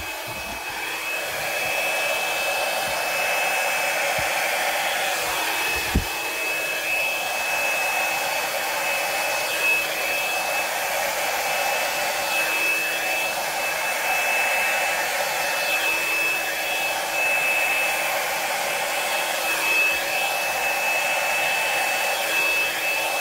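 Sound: large blow dryer drying hair

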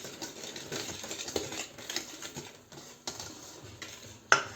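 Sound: stirring mixture with added oil

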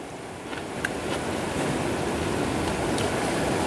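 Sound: sea waves breaking on the beach outside the tent

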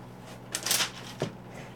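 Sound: kneading and folding dough

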